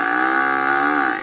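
A water buffalo lows in one long, loud, close moan that holds steady and fades at the end, with no other sounds around it.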